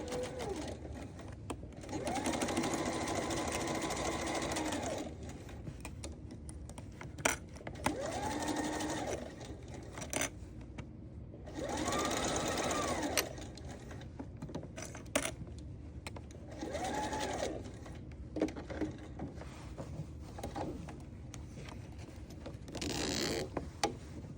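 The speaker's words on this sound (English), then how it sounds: "let's go sew that up. Okay, I just moved my needle over. I'm lining up my fabrics." An older Bernina sewing machine stitches fabric for a sew-together bag in several bursts of rapid, whirring mechanical clatter lasting a few seconds each, with quiet pauses and small clicks between them, close and clear.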